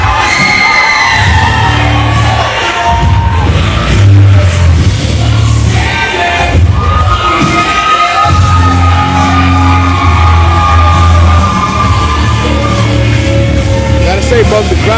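A wrestling match crowd cheers and screams loudly and continuously, with shrill whoops and shouting voices throughout the whole stretch.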